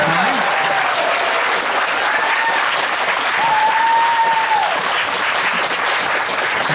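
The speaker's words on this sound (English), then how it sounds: "Give them a nice round of applause today if you don't mind." Outdoor concert crowd applauding a band as it is welcomed on stage, a loud, sustained roar of clapping with cheers and whistles riding over it throughout.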